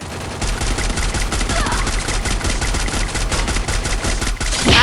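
Gunfire in the video game Free Fire, a loud continuous automatic burst of rapid shots that runs almost the whole time, with a voice faintly under it.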